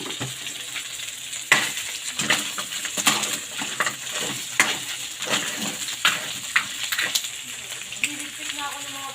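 Red crabs sautéing in a pan with other ingredients, a steady sizzle broken by repeated scraping and clattering stirs, close and fairly loud.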